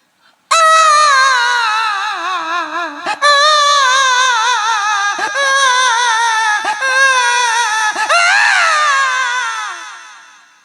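A comic performer on a Hindi laughter-poetry stage imitates a crying baby with his voice, a loud, continuous wailing cry with rising and falling pitch, broken by brief gasps, lasting about ten seconds.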